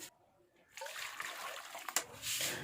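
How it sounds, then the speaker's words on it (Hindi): Homemade chicken yakhni stock poured through a strainer, a steady soft splashing and trickling of liquid that starts after a quiet moment and runs on at a close, moderate level with a brief clink partway through. "ये जो हमारी यखनी है, यखनी को भी हम छान लेंगे"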